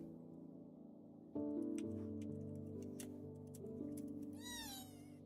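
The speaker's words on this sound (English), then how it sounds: "I got confused, I heard a cat." A cat meows near the end, its rising, wavering cry heard over a steady tonal background of game music with ticking sounds, in a Pokémon-style game setting.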